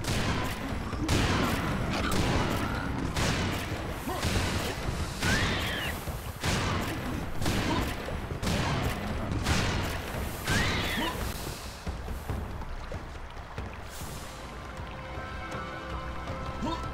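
Repeated shotgun blasts in Serious Sam 2, a steady rhythm of loud sharp shots roughly every second over busy game noise, thinning out toward the end.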